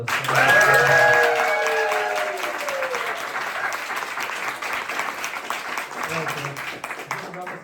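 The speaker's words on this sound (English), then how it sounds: "Another big round of applause for our panelists." Audience at a political forum on international solidarity applauds its panelists, with dense clapping throughout as a voice speaks over the opening seconds.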